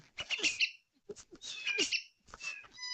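A baby bird chirps in a quiet room, a run of short high tweets in bursts with brief pauses between them, close and fairly soft.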